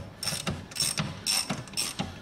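A hand ratchet working on an axle mount bolt of a Land Rover Freelander in a garage, giving several rhythmic bursts of metallic clicking about every half second, close and fairly loud.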